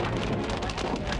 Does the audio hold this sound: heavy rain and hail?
yes